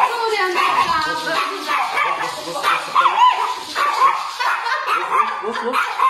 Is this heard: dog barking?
yes